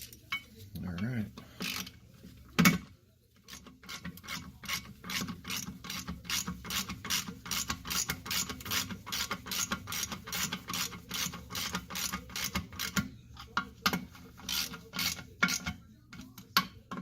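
A hand ratchet tightens the bolts on the brake slave cylinders of a 1963 Porsche 356, making a long, steady run of fast, close clicks with a few brief pauses.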